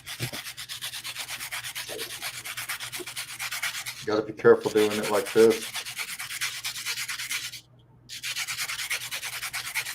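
Steady rhythmic sanding of a circuit board scrapes back and forth, close and continuous. Someone briefly speaks partway through, and the scraping stops for a moment near the end.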